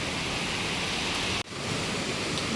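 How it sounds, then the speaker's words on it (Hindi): Heavy rain pours steadily in a dense, unbroken hiss, briefly dipping once before resuming at full strength, with no voices. "देखो जी बारिश"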